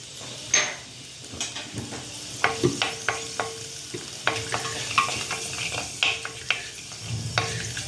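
Curry leaves, urad dal, mustard seeds and cumin crackle in about three tablespoons of hot oil, with a steady sizzle broken by sharp pops and spatters, plus a few clinks of a spoon against the pan.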